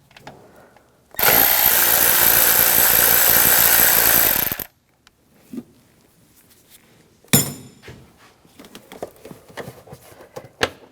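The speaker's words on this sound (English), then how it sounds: "use an 8mm socket, take these screws out" Cover screws come out of a 2009-2013 BMW 328i xDrive 3.0L I6 using an 8mm socket: one loud, steady mechanical whir lasts about three seconds, followed by quieter clicks and handling noises.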